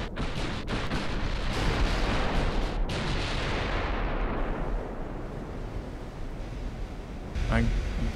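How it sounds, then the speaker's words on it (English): Battleship main battery guns firing a broadside in Ultimate Admiral: Dreadnoughts, a loud burst of rolling booms that swells into a long rumbling roar and slowly fades, with another impact near the end. "Just look at that broadside."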